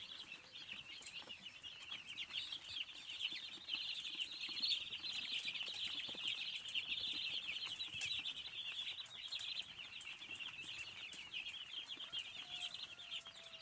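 Six-day-old broiler chicks in a poultry house, a dense continuous chorus of high chirping and peeping with soft rustling and occasional flutters, moderately close and fairly quiet.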